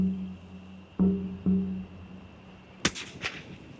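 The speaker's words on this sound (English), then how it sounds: "If it's for human consumption, Ross must get a clean headshot" A single sharp rifle shot cracks out during a kangaroo hunt in outback Australia, following some muffled knocks and a low steady hum, with a brief echo trailing off after the blast.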